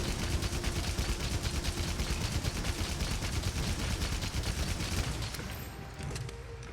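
Rapid, continuous heavy bowgun fire in Monster Hunter Rise: Sunbreak, blasting without pause, loud and dense, easing off slightly near the end.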